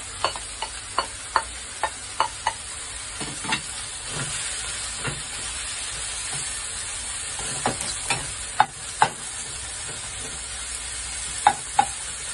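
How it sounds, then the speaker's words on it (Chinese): Mixed mushrooms and enoki stir-fried in a pan, a steady sizzle and hiss broken by sharp clacks of a spatula against the pan at an irregular pace, with no talking. "炒咗一阵之后呢，就可以呢加埋啲金菇落去啦。"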